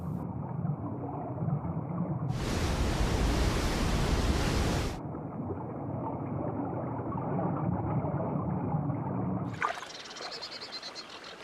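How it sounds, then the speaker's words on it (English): A river running gently, with a soft broadband wash of water that swells into a louder rush midway and continues steadily to the end, with no voices. "The river is flowing more gently now."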